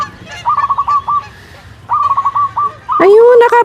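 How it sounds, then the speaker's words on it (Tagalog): Canada geese call while flying overhead, repeated rhythmic honking in two bursts followed by a louder, closer honk at the end, with faint background noise. "Nagliliparan ang mga Canadian goose."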